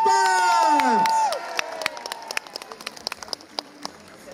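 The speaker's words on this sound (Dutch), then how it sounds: "Nog groter applaus voor een man die dat dubbel en dik verdient." Crowd at the Roeselare criterium presentation in 2024 cheers and claps for a cyclist, a loud tonal swell fading after about a second into scattered, separate claps and shouts.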